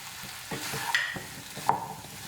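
Mushroom, potato and tomato curry being mixed in a pan, with a few soft scraping stirs and one or two sharper spoon clinks against the pan over a quiet background.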